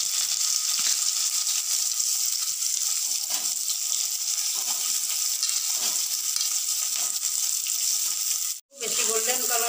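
Chopped onions and cumin seeds sizzling in hot oil in a pan, a steady loud hiss and crackle throughout, close by, broken near the end by a brief dropout before the frying resumes.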